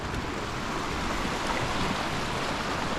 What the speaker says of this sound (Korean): 이렇게 보시면 바이칼 호수는 정말 크고 깊은 호수입니다. 그래서 이 보시면 이렇게 파도처럼 계속 물이 밀려와요